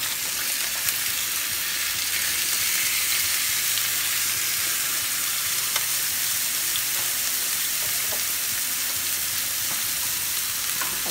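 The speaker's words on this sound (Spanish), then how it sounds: "vamos a echar la otra carne que tengo aquí lista" Meat sizzling in a hot pan on a stove for Dominican chimi burgers, a steady bright frying hiss with occasional pops and faint stirring, no talking over it.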